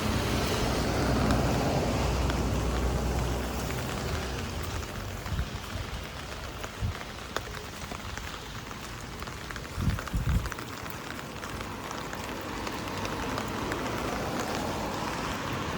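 Steady rain falls on a Tokyo street during a typhoon, a dense, even hiss of drops on pavement with a few soft thumps, continuous and fairly close throughout.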